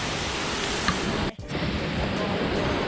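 Constant rushing of a babbling stream at a Nha Trang tourist site, a dense steady water wash broken by one short dip near the middle.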